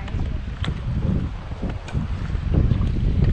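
Gusty wind buffets the microphone outdoors at Yellowstone's Upper Geyser Basin, a continuous low roar with bumps and surges throughout the short stretch.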